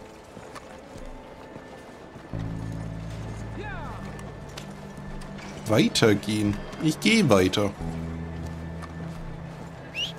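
Horse hooves clip-clop at a slow walking pace in the video game Red Dead Redemption 2, a steady near rhythm with someone talking over it in bursts.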